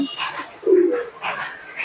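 A female sixteen-tail pigeon coos at close range in a few short, breathy calls with brief pauses between them.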